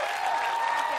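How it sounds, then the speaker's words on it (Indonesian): A studio audience at a televised music quiz show breaks into a brief, dense burst of applause, steady and close, with a sustained musical tone running underneath. "Boleh kita beri tepuk tangan buat Mbak Uci?"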